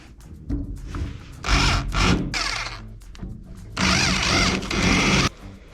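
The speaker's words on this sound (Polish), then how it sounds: "Teraz wiercimy kolejne otwory." A power drill bores holes into a wall for electrical junction boxes, running in several loud, close bursts of whining, grinding noise with short pauses between them and no speech.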